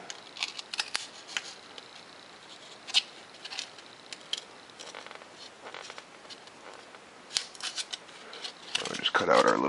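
Blade scoring and cutting out a small piece of material, a series of faint scratchy scraping strokes and clicks, close and quiet, with a louder rustle at the end.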